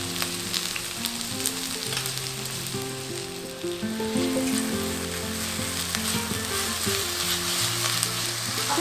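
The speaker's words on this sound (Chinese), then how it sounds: "然后把它搅拌均匀" Pickled mustard greens stir-fried with soy sauce, white pepper, five-spice powder and a little sugar give a steady, close sizzle with soft stirring movements throughout, and no voices.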